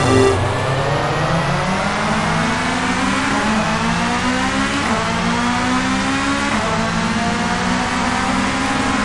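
Touring cars in the TOCA 2 video game launch from the grid at Silverstone. Engines roar loudly and continuously, revving through upshifts with rising and dropping pitch, with no one talking.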